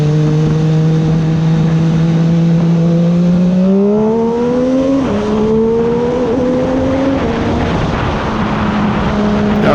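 A motorcycle on a group ride accelerates hard, its loud engine note climbing steadily through the gears with a brief shift break, wind rushing throughout.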